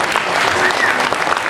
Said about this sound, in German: Wow, Applaus bitte.